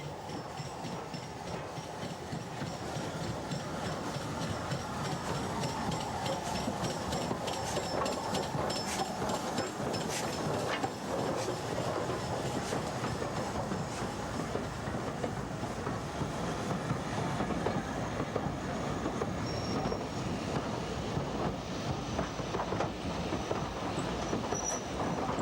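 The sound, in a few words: Stanier Pacific steam locomotive pulling into Doncaster station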